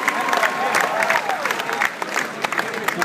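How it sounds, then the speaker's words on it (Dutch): Audience applause at a concert night, a dense crackle of clapping from a large crowd, steady and close, with a voice speaking over it. "Groot applaus."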